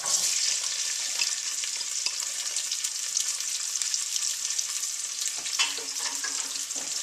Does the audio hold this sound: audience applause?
no